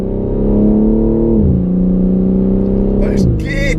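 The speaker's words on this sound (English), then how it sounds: "Those gear changes, it's like PDK. It's literally just a tone change." A modified BMW M3 Touring accelerates hard through several quick, seamless gear changes, its engine tone rising steadily then dropping briefly at each shift before climbing again, heard from inside the car.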